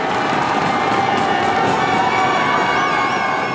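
Large stadium crowd at a Paralympic race finish in Paris roaring and cheering continuously as an athlete runs the home stretch, a dense loud wall of applause with shouts.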